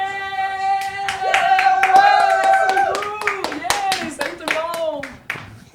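Applause from an audience welcoming a guest onto a French-language show, with a burst of clapping and cheering voices close by mixed with loud sung or shouted tones, trailing off after about five seconds.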